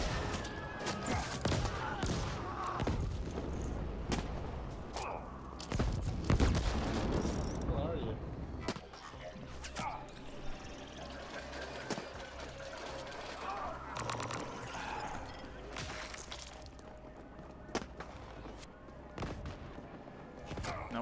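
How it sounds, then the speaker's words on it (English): Rapid bursts of gunfire from the sci-fi video game The Ascent, dense crackling volleys and sharp shots in the first half easing to sparser reports and hiss later. "Just wait until I put bullet inside this gun."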